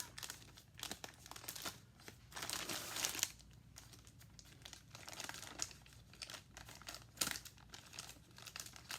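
A plastic shipping bag holding a Temu order is cut and pulled open, giving close crinkling and rustling that comes in bursts and surges, with a sharper tearing swell partway through and no talking.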